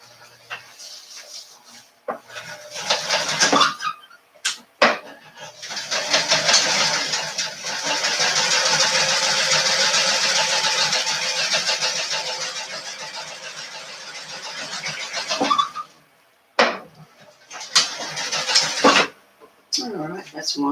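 A Kenmore sewing machine stitches a groom's vest in a long steady motor whir of about twelve seconds, loud and close, framed by shorter bursts of stitching and brief handling noises.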